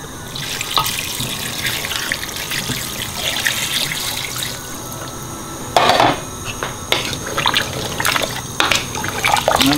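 Water pours and splashes into a metal pot for a lamb dumpling stew, a continuous trickling stream with a few clanks of metal near the middle and end.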